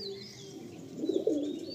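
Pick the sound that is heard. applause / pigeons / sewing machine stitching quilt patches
pigeons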